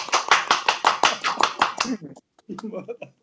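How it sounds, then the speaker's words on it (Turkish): A small group claps in steady unison for a performer, about nine crisp, even-paced claps close by. The clapping stops and voices begin talking. "Bir moral alkışı verelim mi sanatçımıza?"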